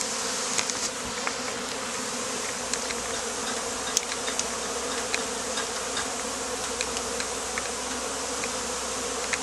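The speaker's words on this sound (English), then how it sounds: "those are the nurse bees." Steady dense buzzing of honeybees at a hive being moved, a continuous mid-level drone with occasional louder passes of individual bees close by; no talking.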